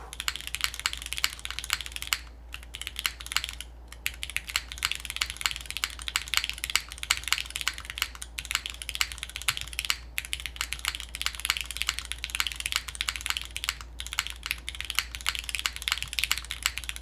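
Rapid, continuous typing on a Syrin TKL mechanical keyboard, with dense clacking keystrokes and brief pauses, close and clear with no voices.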